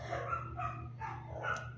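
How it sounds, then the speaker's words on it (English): Neighbouring dogs bark in overlapping bursts, a few barks at a moderate distance, over a constant low background hum. "The neighbor's dogs are in chorus."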